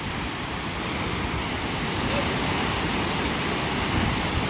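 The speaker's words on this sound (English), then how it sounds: "So this is the Willow River Falls." Willow River Falls, a high-volume waterfall, roars as a steady, dense wash of rushing water, close and loud throughout with no break and no talk.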